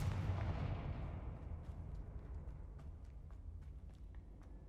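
A Confringo blasting spell from a Harry Potter video game goes off as a deep booming explosion that rolls away into a long fading rumble, with small crackling debris pops scattered through the tail.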